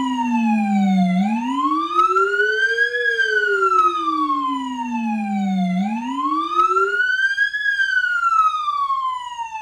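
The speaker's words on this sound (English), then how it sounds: "I'll hit it first, just siren only, and then I'll hit the hammer along with the siren." A 2024 Ford F150 emergency vehicle siren sweeps up and down in long, loud wails, cycling about twice, with a layered hammer tone that adds a pulsing edge to the sweeps.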